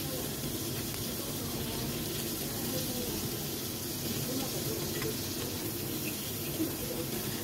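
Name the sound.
chicken frying in oil in a pan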